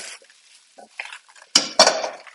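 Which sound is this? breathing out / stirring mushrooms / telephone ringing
stirring mushrooms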